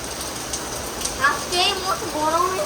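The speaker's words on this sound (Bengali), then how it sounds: "ঝমঝমিয়ে বৃষ্টি হচ্ছে ঝমঝমিয়ে বৃষ্টি" Heavy rain hisses steadily throughout, while a voice and other talk come in over it during the second half; no distinct hail impacts stand out.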